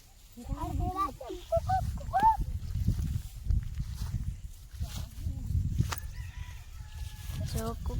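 A rooster crows in several rising, strained calls and clucks in a rural village yard, fairly close, while people talk and move around nearby.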